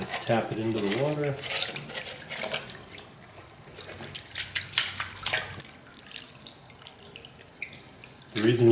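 Sluice matting from a mini stream sluice is tapped and sloshed into water in a gold pan, giving close splashing and dripping with watery rubs, loudest at the start and again at the end.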